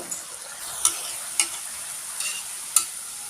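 Moong dal murukku frying in hot oil, a steady bubbling sizzle broken by a few sharp clinks and stirring taps, close and without talk.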